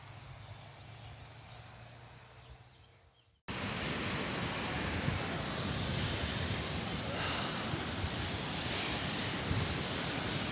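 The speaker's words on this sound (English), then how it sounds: "Finally back at the ocean." Ocean surf at Mira Beach on the Portuguese coast: after a quieter stretch of ambience, a sudden cut brings in a steady, loud, broad wash of waves that rushes on without a break.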